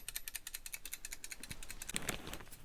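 An old mechanism salvaged from a washing machine ticks in a steady run of sharp, fast clicks, close and fairly quiet, with a slightly louder, denser patch of ratcheting near the end.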